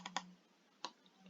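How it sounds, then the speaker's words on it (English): A computer mouse clicked while working in SketchUp: two quick, quiet clicks close together, then a short pause and one more faint click. "Triple click"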